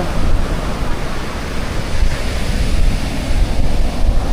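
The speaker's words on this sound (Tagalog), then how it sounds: "Kaso lakas ng alon." Ocean waves break on Diniwid Beach in Boracay as a loud, continuous, rumbling surf wash with a blustery, wind-buffeted texture throughout.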